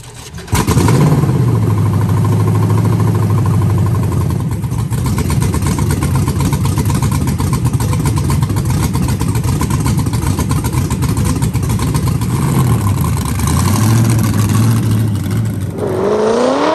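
A Bug sandrail engine roars loud and close through a test drive, holding a steady drone with revs rising near the start and again toward the end, then dropping off.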